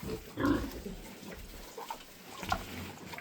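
Large White and Maximus cross piglets grunt in a few short, close bursts with quiet rustling between, no speech over them.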